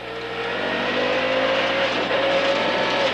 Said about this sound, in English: this is the Subaru of McGeer and Williams